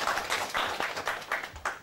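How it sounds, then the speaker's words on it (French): Brief audience applause at the launch ceremony of the Malidjama network: a short burst of clapping in uneven waves, moderately close and alone for under two seconds. "Je vous demande de l'applaudir."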